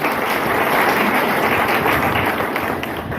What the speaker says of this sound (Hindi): हम चाहेंगे सरिता मैडम के लिए एक बार शानदार ताली होनी चाहिए